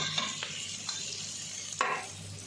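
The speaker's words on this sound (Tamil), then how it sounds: "வெங்காயத்தை இந்த அளவுக்கு நல்லா வதக்கிக்கலாம்." Onions sautéed well in a pan for Chettinad country chicken gravy, a continuous close sizzle broken by a few sharp scrapes of a spoon stirring against the pan, no voices.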